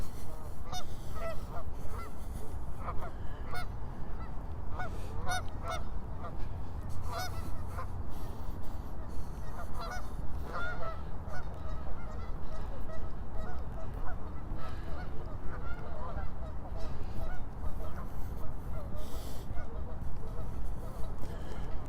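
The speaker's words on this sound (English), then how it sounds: "Oh yeah, there's usually geese over here, and there they are." Geese honk repeatedly beside a lake in Regina on a late-October walk with leftover snow, steady outdoor ambience and scattered calls throughout, some nearer and louder, with faint voices at times.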